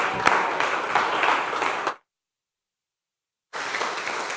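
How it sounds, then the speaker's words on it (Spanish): A congregation applauds in a church service, with dense steady clapping that cuts out abruptly into silence partway through and then resumes at full strength. "pero denle un aplauso largo y extendido,"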